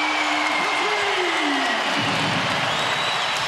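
A sellout crowd in an NBA arena, Spurs against Suns, roars steadily after a three-pointer, a broad, loud, sustained cheer with a whistle-like tone drifting over it.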